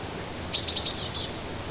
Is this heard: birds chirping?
yes